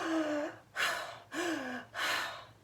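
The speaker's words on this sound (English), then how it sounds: "And breathing, we can do stress breathing." Someone close by demonstrates rapid, shallow stress breathing, alternating sharp, noisy gasping inhales with short voiced exhales in a quick, steady rhythm of about four breaths.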